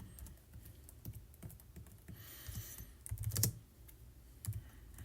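Someone types C++ code on a computer keyboard, quiet irregular clicks and taps in quick bursts, with one louder clatter partway through, in an otherwise hushed room.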